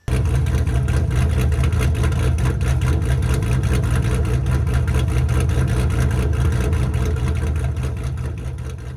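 A Dodge Charger's engine and exhaust idle with a deep, steady rumble, loud and close, holding constant before fading slightly at the end, with no voices.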